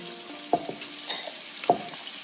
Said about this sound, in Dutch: Roer die maar even lekker door de saus heen